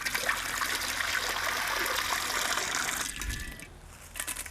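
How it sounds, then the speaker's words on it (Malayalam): Water gushes steadily into a heavy uruli cooking pot set over a well-lit stove. The pour runs for about three seconds, close and fairly loud, then cuts off into quieter kitchen sounds. "ആദ്യം കുറച്ച് വെള്ളം ഒഴിച്ചു കൊടുക്കാം."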